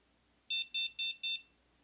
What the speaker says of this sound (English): After you hear 3 beeps from the sensor,